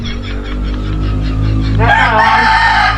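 A rooster crows loudly and close by, with a burst of harmonic calling late in the clip over steady low background noise.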